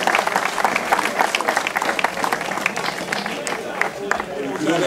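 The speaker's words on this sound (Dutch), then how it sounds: "uw applaus dit keer voor de winnaar van het sprintklassement" Crowd applause at a prize ceremony after a time trial at a cycling race, honoring the sprint classification winner, steady clapping filling the space with an announcer talking over it.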